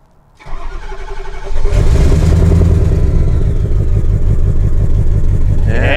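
A 2003 Ford F-350 Super Duty King Ranch with a 6.0 Powerstroke cranks over and catches. It then settles into a loud, close, steady clattering run that holds to the end.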